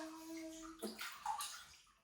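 A hand splashes into bathwater, giving a few short sloshes and gurgles after a brief tonal hum, faint and close with no voices.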